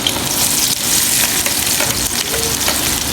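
Chopped onions frying in hot ghee in a pan, a loud, close, continuous crackling sizzle with no pauses and no voices.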